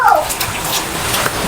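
Tap water runs steadily while dishes are washed at home, a continuous splashing wash of moderate loudness with a voice speaking briefly over it.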